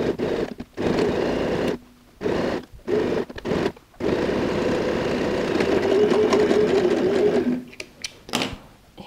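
A sewing machine stitches a pleat on a tote bag in short whirring bursts separated by pauses, then one longer steady run, close and clear, with no talk.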